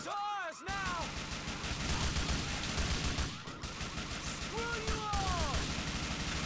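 Gunfire in the video game GTA 4, with dense, continuous shooting and bursts layered over a busy game soundtrack, plus brief whistling tones. Someone talks between the bursts.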